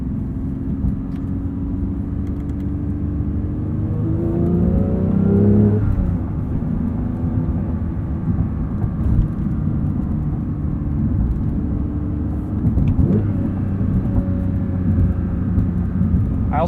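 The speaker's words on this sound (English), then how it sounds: "I've actually really enjoyed driving this GT3," A Porsche 911 GT3 with a manual gearbox revs and accelerates on the road, its engine rising and falling in pitch with shifts, a steady loud rumble heard from inside the cabin.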